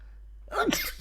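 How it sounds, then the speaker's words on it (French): A single sneeze bursts out after a half second of near silence, loud and close, with a sharp breathy burst and a trailing spray of noise. "Attention, je vais éternuer."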